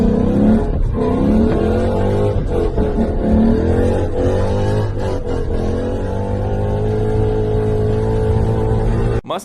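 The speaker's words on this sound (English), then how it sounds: "clip of a car having some fun. It just happens to be a Mustang" A Ford Mustang revs hard and accelerates loudly close by, its engine note climbing and shifting through gears in a continuous roar before cutting off abruptly at the end.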